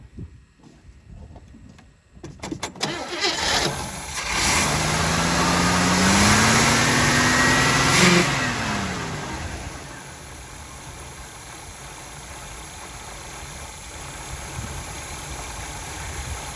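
An abandoned 1977 Pontiac Grand Prix engine cranks briefly, catches, revs up loudly, then settles into a steady idle. The rumble is close, and there is no talking over it.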